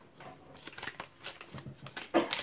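An envelope from the postwoman is handled and torn open up close. Several short papery rips and rustles come in quick bursts, with the loudest tear near the end and no speech.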